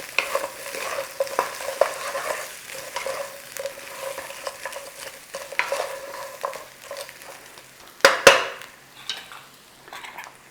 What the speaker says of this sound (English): In there, your ribs. Oh yeah. Nice little stir through.